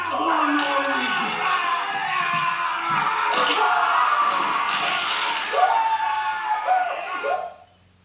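A crowd at a fight breaks into shouts and cries of joy after a victory, a dense, loud mix of overlapping voices that fades out at the end.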